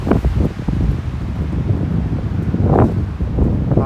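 Wind gusting through trees beside a choppy lake, a steady broadband rush with rustling leaves and a louder swell near the end, no voices.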